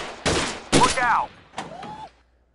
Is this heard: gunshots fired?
yes